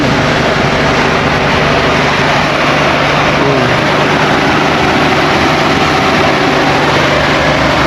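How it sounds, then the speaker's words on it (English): An overheated car engine drones loudly and continuously up close in the desert, with a steady low rumble and a whirring radiator fan hum, no voices. "The engine is very hot. You can hear the radiator."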